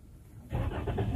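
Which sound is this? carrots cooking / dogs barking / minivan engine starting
minivan engine starting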